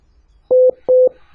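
Two telephone dialing tones beep in quick succession while a dropped call is redialed, each a clean, evenly pitched tone of about a fifth of a second, set against near silence.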